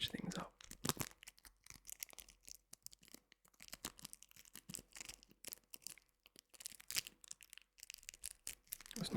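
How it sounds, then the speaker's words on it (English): Mild crinkling and tearing-like rustles for ASMR relaxation, close and soft, in irregular bursts with faint whispery texture throughout. "you can get some mild crinkling sounds just to switch things up"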